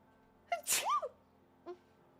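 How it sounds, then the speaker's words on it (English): A person sneezes once, loud and close, with a sharp intake of breath before the burst and a short breathy sound after it, alone in a quiet room. "I gotta sneeze. Oh god, I gotta sneeze."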